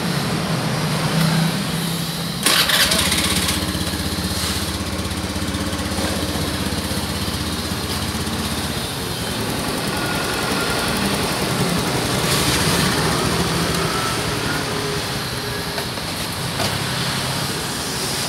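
A Honda Beat FI scooter fitted with a Daytona racing V-belt runs close by with a steady buzzing engine drone, rising in a sharp rev near the start and again later, with no speech over it.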